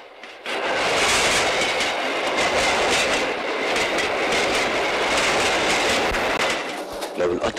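Train thundering along rails in an Egyptian film, a loud sustained roar with rhythmic clatter of wheels over the track lasting several seconds, alone without talk.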